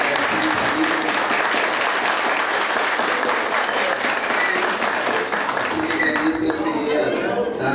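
Loud, sustained applause from a large crowd at a conference event in Aracaju, Brazil, dense clapping that continues steadily throughout, with cheering voices mixed in.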